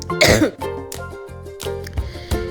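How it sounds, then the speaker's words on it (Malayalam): A person coughs and clears their throat in a few rough bursts at the Global Village fair in the UAE, with tonal background music playing throughout. "സംസാരിക്കുമ്പോൾ ഒക്കെ ചുമയൊക്കെ വരികയും"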